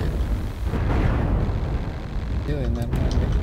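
A single heavy weapon blast fires accidentally from a mech in MechWarrior Online, a loud boom with a rumbling tail, followed by someone speaking over the rolling game noise.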